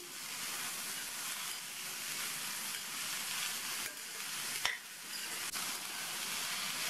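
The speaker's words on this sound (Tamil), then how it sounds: "அதை சேர்த்துட்டு எண்ணெயிலேயே நல்லா 1 நிமிஷம் போல் வதக்கி விட்டுக்கணும்." Chayote pieces sauté in hot oil with a steady, close, loud sizzling hiss, broken briefly by a few stirring scrapes.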